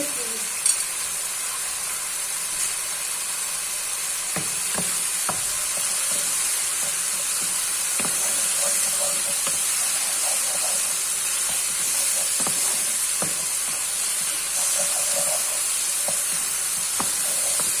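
Tomato paste sizzles and fries in a pan for a pasta dish, a constant hissing crackle with scraping and tapping as it is stirred.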